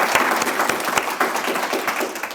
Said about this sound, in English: I want to do a round of applause for Susan Heiser.